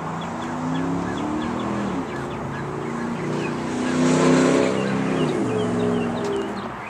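A 2001 Harley-Davidson Dyna Low Rider with an unmarked aftermarket exhaust and carburetor jetting rumbles nearby, a steady loud throbbing with a slight swell in revs midway.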